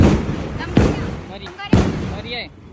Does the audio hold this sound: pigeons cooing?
no